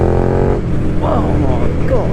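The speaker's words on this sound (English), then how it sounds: "Let's try this quick shifter." A KTM Superduke 1290R accelerates through its quick shifter, the engine revving up in short rising bursts between clean upshifts while a rider talks over it.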